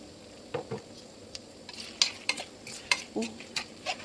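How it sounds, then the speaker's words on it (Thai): Garlic and fresh chili stir-frying in rendered pork fat in a pan, a low sizzle with intermittent scraping and clinking of a spatula against the pan at an uneven rhythm, close by with no talk. "ใส่กระเทียมลงไป ลงไปเจียวลาหมูเลยค่ะ ตามด้วยพริกสดนะคะ"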